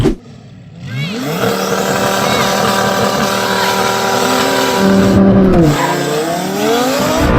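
Lamborghini Huracan Turbo and Kawasaki H2R accelerating hard in a drag race, a loud sustained engine roar with rising revs and gear shifts, the note dipping and climbing again near the end.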